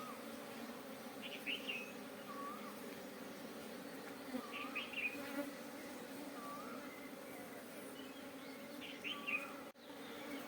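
Honey bees hum softly around a queen caught in a box, a faint, steady drone with brief buzzing flurries as bees move close by, and occasional bird chirps far off in the background.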